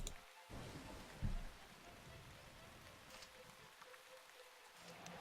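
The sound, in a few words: rain effect of Sealing Rain spell, Shroud of the Avatar video game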